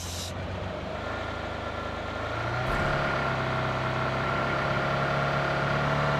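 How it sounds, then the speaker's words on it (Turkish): A car engine in a video game drones steadily while the car drives, then swells to a louder, fuller hum partway through, with no one talking. "Araba gidiyor araba."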